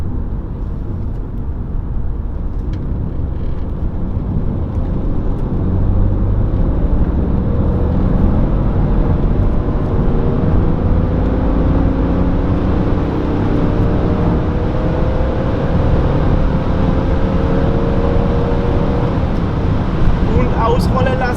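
BMW 330d Touring diesel engine running under load on a dynamometer during a power measurement, a steady loud drone with rising engine tones, no talk heard.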